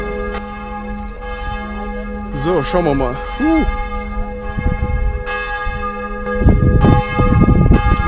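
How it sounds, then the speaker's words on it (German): Church bell ringing in a plaza where people sit eating ice cream, with steady resonant tolling throughout as someone talks over it in German. "Das ist übrigens eine sehr schöne Glocke-Kirche."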